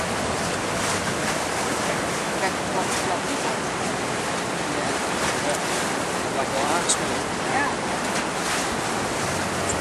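The Fraser River rapids at Hells Gate give a steady, loud roar of rushing white water, heard from a raft. Wind buffets the microphone throughout and no one speaks.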